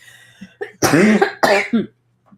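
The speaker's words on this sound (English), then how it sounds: "Sorry about this cough." Two loud, harsh coughs close to the microphone, followed by a brief raspy throat sound, then quiet.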